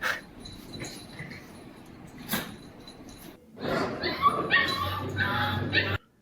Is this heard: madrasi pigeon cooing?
no